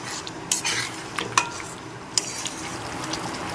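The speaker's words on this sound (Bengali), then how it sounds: "সাথে ডিমগুলোকে মিশিয়ে দিলাম এবার একটু নেড়ে চেড়ে নিচ্ছি" Egg masala curry stirred in a pan, a spoon scraping and clinking against the metal over a steady low simmering sizzle, with a few sharper taps, close and without voices.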